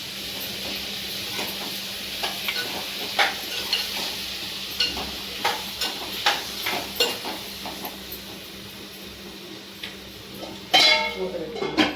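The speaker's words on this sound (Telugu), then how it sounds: "ఇప్పుడు కలుపుతాం." Cucumber and tomato pieces with turmeric and salt are stirred in a pan, giving a quiet run of scraping and clinking spoon strokes over a faint sizzle, ending in a louder clatter.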